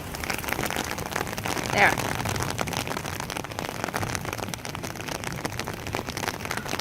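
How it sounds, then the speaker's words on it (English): Steady heavy rain from a thunderstorm hisses and patters densely on surfaces, constant throughout, with one brief spoken word midway. "It just started raining a lot more heavy."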